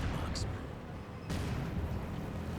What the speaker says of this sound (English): Nice mortar shot there by the 120mm mortar